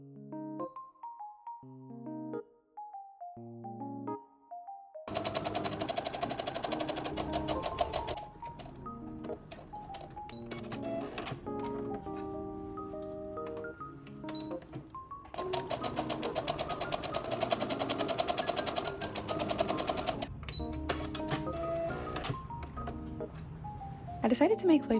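A sewing machine runs in bursts while stitching the side seams of a summer Lolita dress bodice, its fast rattling whir starting and stopping between pauses, with a soft melodic tune playing alongside throughout.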